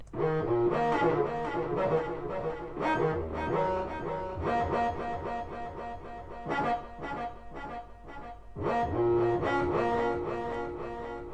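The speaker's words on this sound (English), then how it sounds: "808 pattern which is just filled with it's just 808 fillers with delay and everything" A dense trap beat of deep, distorted 808 bass hits and rapid 808 fills with delay echoes, loud and continuous, with brief dropouts before the pattern slams back in.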